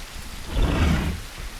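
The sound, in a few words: rain sound from The Isle Evrima video game, bugged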